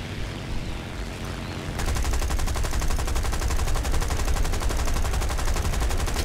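Rapid automatic gunfire rattles continuously in the War Thunder video game. After a brief quieter start, a dense, loud stream of shots stays steady until the end, with no talking.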